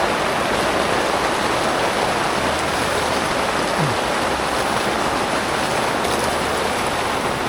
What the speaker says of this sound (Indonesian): Alhamdulillah hujan ya.